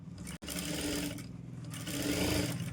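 A sewing machine stitches a puff sleeve in a close, steady mechanical whir, broken by one very short stop near the start before the running resumes.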